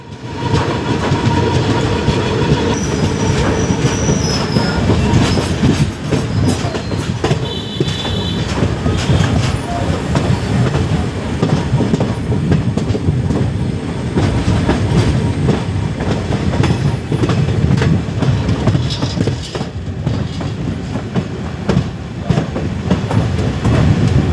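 A train rolls steadily along the rails on the Chenkottai–Punalur hill route in the monsoon, with a continuous loud rumble, rhythmic clacking of wheels and occasional high metallic squeals throughout.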